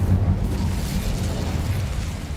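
The Incendio fire spell in Hogwarts Legacy erupts as a loud, close whooshing roar of flame, a sustained low rumble that fades slightly over its short span.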